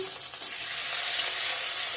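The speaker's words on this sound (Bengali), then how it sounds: "এখানে ফোড়ন দিয়ে দিচ্ছি পেঁয়াজ শুকনো লঙ্কা তেজপাতা আর হচ্ছে সাদা জিরে আর একটু আদা দিয়ে দেবো" Onion, dried red chilli, bay leaf, white cumin and crushed ginger sizzle in hot oil for a vegetable curry, a steady close crackle and hiss with faint stirring.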